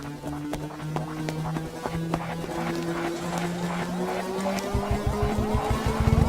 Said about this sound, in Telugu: స్కార్పియో హాస్పిటల్ లోపలికి వెళ్ళకుండా స్ట్రైట్ గా వెళ్తుంది